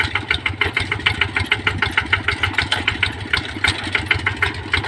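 An RT110 tractor engine chugs with a rapid, steady pulsing beat while plowing a field to prepare soil for chili planting, running loud and close without pause.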